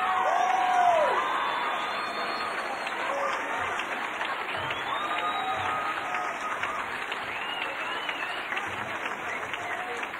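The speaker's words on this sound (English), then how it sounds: "Somebody ought to clap for her." Audience at a Narcotics Anonymous banquet claps and cheers, with whoops and shouts over steady applause that runs the whole time, loud and roomy, and a few voices call out above it.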